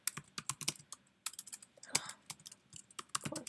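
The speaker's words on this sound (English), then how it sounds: "Typing fingers are not working with me today." Fingers tap quickly on a computer keyboard while data are entered into statistics software, giving quiet, irregular clusters of keystrokes and clicks with brief pauses between them.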